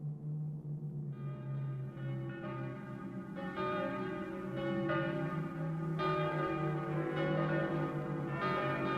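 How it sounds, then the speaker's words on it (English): Several church bells toll in overlapping, resonant strikes, ringing steadily with long sustained hum between hits. "While the bells toll ominously outside"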